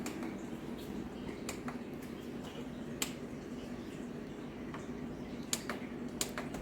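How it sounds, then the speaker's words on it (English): Several sharp, separate clicks from button presses on a Ninja 4-quart air fryer control panel, spaced irregularly over a steady low background hum, close and fairly faint, with no talking. "I'm going to click air fry. I'm going to click time."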